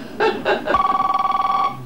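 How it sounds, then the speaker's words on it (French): A telephone ring sounds as a sound effect on a French radio comedy show, with a few short rising tones followed by a fast, steady trilling ring lasting over a second, close and clear. "on va faire comme si on va envoyer la sonnerie du téléphone"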